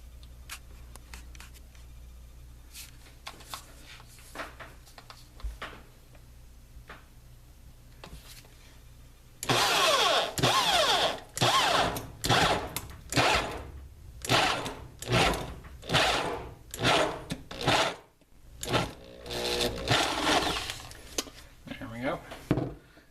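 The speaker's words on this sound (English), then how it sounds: "So this is going to be a 7/16 hole on the stepped drill bit here." A stepped drill bit boring a 7/16 hole into a box mod enclosure, loud harsh grinding bursts in repeated short passes after a quiet stretch of faint handling.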